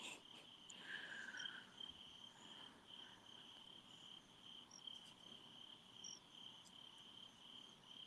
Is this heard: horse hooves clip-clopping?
no